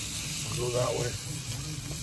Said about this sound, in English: PK grill, going on. Ribeye steak.